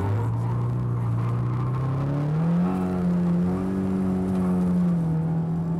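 A drift car at Honjo or Nikko circuit accelerates into a corner with the handbrake pulled. The engine drones steadily at a moderate distance, its pitch climbing and then holding as it revs through the turn.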